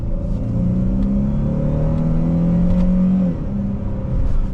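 A 2023 Chrysler 300S accelerates with paddle-shifted gear changes, a strong close engine hum climbing in pitch, dropping at a shift near the end, then pulling again, with no talk.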